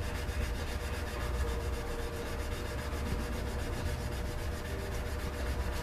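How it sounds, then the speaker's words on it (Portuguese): Steel wool scrubbing along the frets of a bass guitar, a steady soft rubbing hiss that runs continuously and evenly, close and quiet, with no speech. "Aí nós vamos pegar a esponja de aço, apoiar em cima dele aqui"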